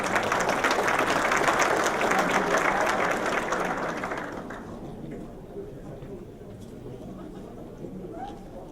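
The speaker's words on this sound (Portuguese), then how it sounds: "Peço uma salva de palmas para ele" An audience applauds at the opening of a telecommunications industry panel, dense clapping for about four seconds that fades into scattered claps and murmuring crowd noise.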